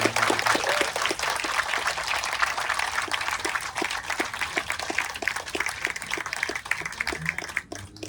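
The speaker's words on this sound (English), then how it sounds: "Now you can give all of those folks that were mentioned a big round of applause." An audience applauds at an outdoor ribbon-cutting ceremony in the Bronx. Dense, steady clapping from many hands carries on for about eight seconds at moderate distance, then begins to thin out at the very end.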